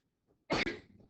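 A single short, sharp sneeze in a classroom, a burst of breath lasting a fraction of a second with a quick second puff, close by and fairly quiet.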